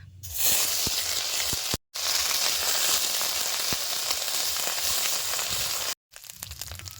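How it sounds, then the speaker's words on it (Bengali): Whole cumin, whole garam masala, onion and ginger fry in hot oil for village-style egg puri, giving a loud, continuous sizzle and hiss broken by two brief cuts of silence. "গোটা জিরা গোটা গরম মশলা এবারে তুমি বাইটে রাখা পেঁয়াজ আর আদা"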